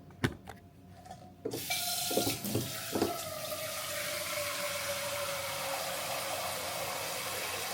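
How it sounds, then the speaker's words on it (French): A few light clanks of a pot in a kitchen, then water rushes steadily from a tap into the pot, filling it to cook cassava. "Donc on va mettre un peu d'eau."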